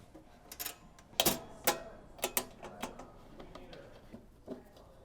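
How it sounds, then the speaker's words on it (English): The side panel of an ECM Synchronika espresso machine slides under a tray tab and locks into place: a few faint metallic clicks and clacks, one sharper snap near the middle, then light ticking taps in a quiet room. "slide the top tab underneath this tray so that it slides and locks into place and lines up with our hole"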